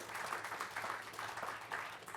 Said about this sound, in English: Can I please have a round of applause to our wonderful panellists and all your insights?